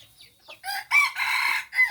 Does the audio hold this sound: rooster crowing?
yes